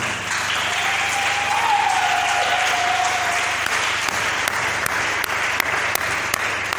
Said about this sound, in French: est-ce que nous pouvons acclamer pour les femmes et les futures mamans?